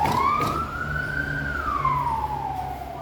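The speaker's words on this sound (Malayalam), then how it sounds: "ഇവിടെ ഇടയ്ക്കിടയ്ക്ക് ആംബുലൻസ് പോവും, ഹൈവേ ആയ കാരണം. ഇതാണ് ആ സൗണ്ട് ഇങ്ങനെ കേൾക്കുന്നത്." An ambulance siren wails past on a nearby highway, a single rising and falling tone sweeping up and then down, clear and fairly loud over a steady background hum of traffic.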